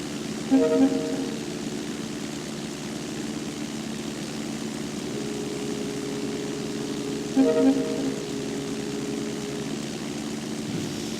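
A Cessna Skyhawk SP Model 172 propeller engine drones steadily throughout a landing at Lower Loon Creek Airport, with a low continuous hum and two brief louder tonal swells.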